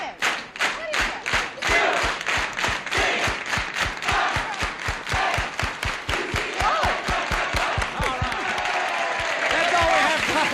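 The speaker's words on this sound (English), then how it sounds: "Shall we have that cheer for UCLA?" A studio audience at a 1974 television game show claps rhythmically in unison, a steady run of sharp, evenly spaced clap bursts that swells into a louder, looser cheer toward the end, with voices mixed in.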